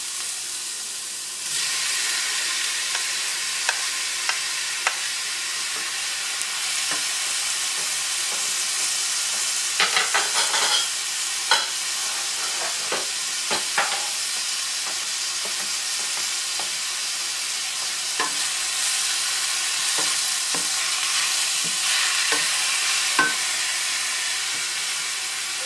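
Chopped tomatoes frying with sofrito in a pan, a long steady hiss of sizzling steam with scattered faint clicks and scrapes of stirring, fairly close and without voices.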